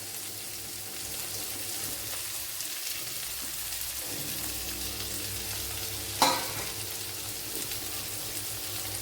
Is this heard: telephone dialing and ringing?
no